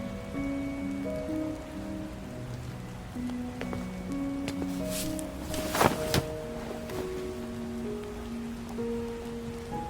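Night rain falling on surfaces outdoors, a soft continuous patter with scattered drops and a brief louder splash midway, quiet and steady with faint tonal music-like hums underneath.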